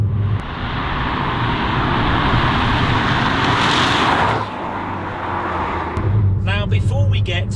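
A Ford Puma ST's engine note in sport mode comes through as a loud, steady roar that dips briefly partway through before resuming, with an engine burble and brief sharper tones near the end.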